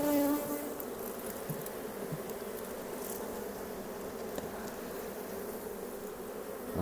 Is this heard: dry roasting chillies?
no